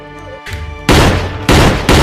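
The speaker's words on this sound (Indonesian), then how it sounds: "sang nenek harus ditembak mati oleh Kretsky dengan rasa terpaksa" Loud gunshots ring out in a wartime film scene where a grandmother is shot: a few heavy, booming blasts, each leaving a long echoing tail after a quieter opening.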